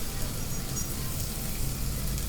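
Butter sizzling with fried potatoes in a pan, a steady low hiss and crackle of frying that runs evenly throughout at moderate volume, with no voices.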